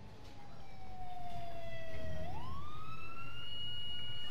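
Fire engine siren in the video game Emergency 4, FairFax County mod: a wailing tone that slides down, then sweeps back up and holds high, growing steadily louder and nearer with no talk over it.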